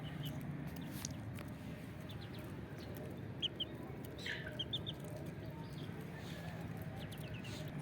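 Aseel chicks about 75 days old cluck and call in short, scattered bursts over a steady low background rumble, fairly near but not loud, with no talking.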